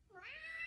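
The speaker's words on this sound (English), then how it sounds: "That's my cat." A house cat gives a single short meow, rising and then holding its pitch, close and fairly quiet, with no talking.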